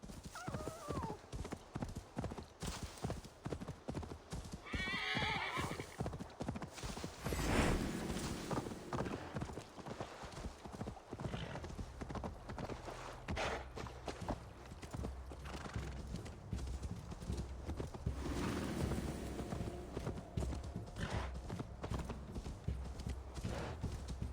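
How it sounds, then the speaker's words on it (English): Horse hooves clip-clop steadily with repeated neighs and whinnies in the video game Assassin's Creed Valhalla, the rhythmic steps close and prominent over a constant game ambience for most of the stretch. "The horse doesn't want to climb this, so I'll leave the horse here."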